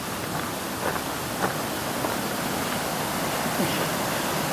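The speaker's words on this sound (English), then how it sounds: "the creek that's coming down from Connell Lake" A mountain creek running down from Connell Lake rushes in a loud, constant broadband roar of flowing water, close by with no pauses.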